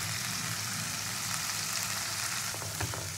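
Spice paste (masala) sizzling in a pan with potatoes, a continuous bright frying hiss with occasional soft scrapes near the end.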